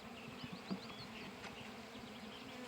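A steady, faint hum of honey bees buzzing around a queen-rearing cell builder hive, with a few brief louder passes close by and no voices.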